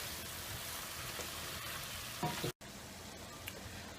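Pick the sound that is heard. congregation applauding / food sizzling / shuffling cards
food sizzling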